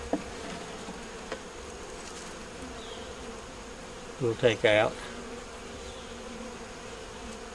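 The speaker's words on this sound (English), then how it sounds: "We'll put the bees in there." Honey bees buzzing faintly around a beehive, a soft constant hum with a short spoken phrase in the middle.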